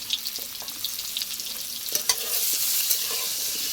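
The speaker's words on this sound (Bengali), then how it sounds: "এবার ভেজে নেব" Whole potatoes sizzle and crackle as they fry with turmeric and salt in hot oil, a dense steady hiss broken by the scrape of stirring, growing louder toward the end.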